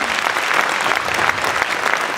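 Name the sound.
audience applauding a student's presentation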